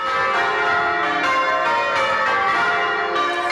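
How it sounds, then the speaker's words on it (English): New set of eight church bells in a village church at North Curry, Somerset, ringing out together in a dense, continuous, bright metallic peal with overlapping tones, loud and sustained. "a new set of church bells rang out for the first time"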